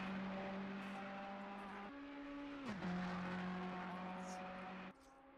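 Race car lapping Monza in Assetto Corsa Competizione, a sustained engine tone holding steady, then stepping up and sweeping down through gear changes, heard continuously at moderate level before dropping off near the end.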